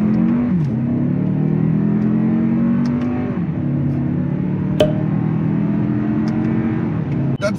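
A 2023 Lexus RX350 four-cylinder engine pulls steadily under acceleration inside the cabin, a loud continuous drone rising in pitch and dropping at each gear shift.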